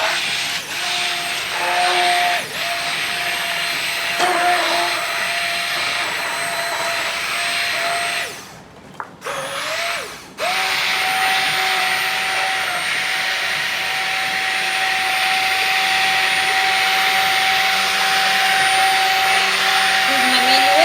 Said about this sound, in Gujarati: એમાં થોડુંક ઠંડુ પાણી નાખવાનું અને હવે બ્લેન્ડર કરશે.